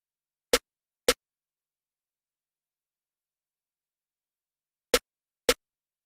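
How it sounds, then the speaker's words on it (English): Four sharp, crisp snare drum hits from a trap beat sample in FL Studio, played in two pairs separated by a long silence, each hit short and punchy. "his next sound is just a snare, and it sounds like this."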